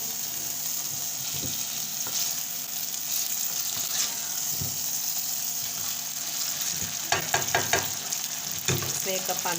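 Chicken and spice masala fry in a pan with a steady, soft sizzle, while a spoon stirs and scrapes now and then, with clattering clusters of scraping near the end.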